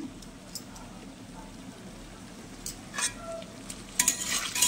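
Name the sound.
fish frying and being stirred in a pan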